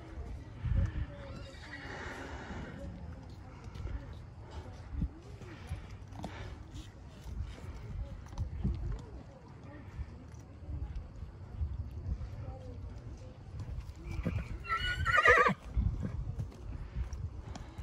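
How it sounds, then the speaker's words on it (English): A horse whinnies near the end amid a noisy background with people talking. "It's a beautiful horse."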